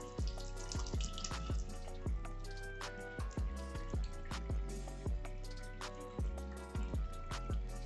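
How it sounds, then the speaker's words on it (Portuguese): Water drops fall onto a Motorola Moto G52 phone to simulate rain, giving a steady patter of many close, distinct splashes that run without pause over running water. "E vamos simular pingos de chuvas."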